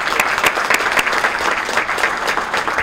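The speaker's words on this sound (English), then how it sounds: "Please give him a nice warm round of applause" A luncheon audience at a Chamber of Commerce legislative event gives warm applause for the guest speaker, the Speaker of the House of Representatives: loud, dense, continuous clapping from a nearby crowd.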